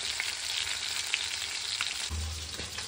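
Fish for a fish curry fries in hot oil with a steady close crackling sizzle, broken by a few louder spits and a short scrape near the end, with no talk.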